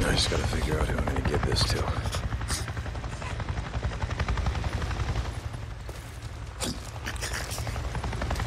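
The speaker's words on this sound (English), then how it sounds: "I just saw a goddamn chopper!" Helicopter flying in the video game Days Gone, a steady loud rotor drone with gunfire-like bursts and game sounds throughout.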